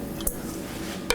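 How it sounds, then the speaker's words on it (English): Garlic and pepper drop into a mixing bowl during kitchen prep, giving two short, soft clinks against the bowl in a quiet room with no talk. "we're going to add the garlic and the pepper to our mixing bowl"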